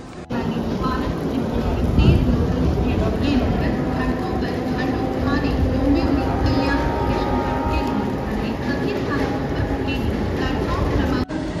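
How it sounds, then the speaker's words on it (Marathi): A Mumbai local train on the Harbour line pulls away from the platform at Kurla toward CST. Its loud continuous rumble and wheel clatter fill the station while people talk nearby. "ज्या ट्रेनमधून आपण आलो ती आता चालली"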